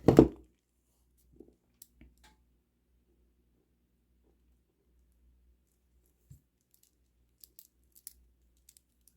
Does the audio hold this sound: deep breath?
no